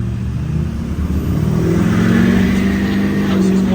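A Duramax diesel dually truck with 450,000 miles on it revs hard up close, its loud engine note climbing and holding steady at high RPM.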